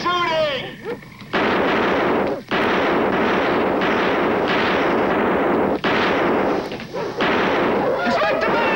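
Dense sustained gunfire from a sci-fi film fills the clip, a loud continuous rattle of shots with brief gaps, and voices shout at the start and end.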